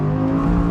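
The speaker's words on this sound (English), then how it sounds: "that 10-cylinder noise, I really can't get enough of it" A deep, steady drone of an Audi R8 V10 rear-wheel-drive engine with a strong low harmonic, heard briefly and up close as it holds revs.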